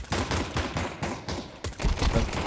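Rapid bursts of automatic gunfire in a shooter game, several close, loud volleys with short gaps between them and a heavier burst near the end.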